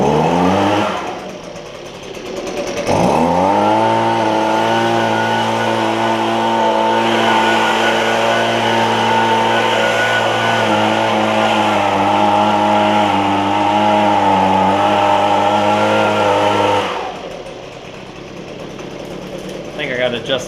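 Husqvarna leaf blower engine running steadily after repair, a loud, buzzing two-stroke drone that starts up sharply, holds with slight wavering in pitch for about fourteen seconds, then drops off, with someone talking.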